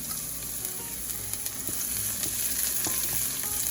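Steady sizzling of Cheongyang chili peppers frying in a pan with browning ingredients, a continuous crackling hiss with occasional stirring clinks, close and moderately loud.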